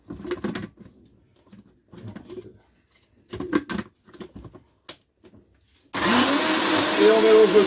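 After several bursts of soft speech with pauses, a loud electric mixer starts up and whirs continuously, blending a hemp seed fishing bait mix.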